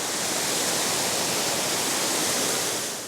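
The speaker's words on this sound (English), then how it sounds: "I really love this waterfall." Middle Creek Falls waterfall heard up close, a loud, dense, unbroken roar of falling water filling the whole stretch, easing slightly at the very end, with no voices.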